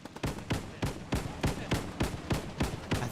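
A cannon fires high-explosive shells in the World War II shooter Post Scriptum, sounding as a rapid string of about ten sharp explosive blasts at a steady rhythm, each booming hit trailing off quickly, loud and close with no talk.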